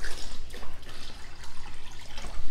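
Water pours and splashes from a pitcher for the dogs, a close, uneven liquid trickle lasting a couple of seconds.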